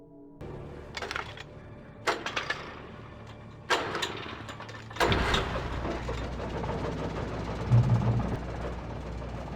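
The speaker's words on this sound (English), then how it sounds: "That's when I heard the chainsaw." A chainsaw in the video game Alan Wake Remastered sputters and catches after a few short bursts, then runs steadily with a rough, buzzing drone, fairly close and loud.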